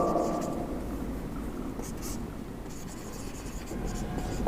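A teacher writes an English sentence on a classroom board, the chalk or marker scratching steadily and faintly under a soft background hiss, with no talk over it.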